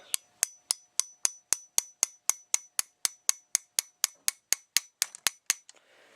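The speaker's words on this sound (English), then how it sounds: "Hit it until it's flush." A hammer strikes a Lee Loader resizing die during .303 British reloading, about twenty sharp metallic taps at a steady, quick rhythm, close and crisp, fading in the last second.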